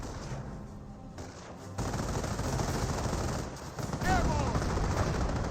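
Rifle fire in a battle in the video game Company of Heroes, a dense crackle of shots rolling continuously, growing louder and busier partway through, with a faint voice underneath.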